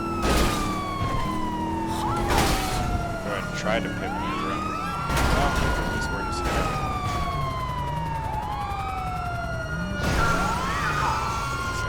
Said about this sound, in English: I know the sirens are just awful. They're the stock GTA sirens.